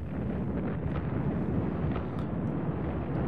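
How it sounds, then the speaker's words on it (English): Explosion in the Evil Genius video game, a steady, dense rumbling roar with a constant low-end wash and faint crackles throughout, with no voices over it. "Oh, we're about to see something of an explosion."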